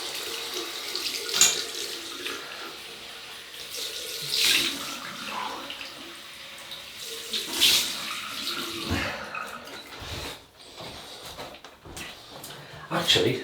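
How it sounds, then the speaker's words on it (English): A tap runs steadily for a cold water rinse after shaving, a continuous splashing flow into a sink with a few knocks and clinks, while people talk over it. "Cold water rinse."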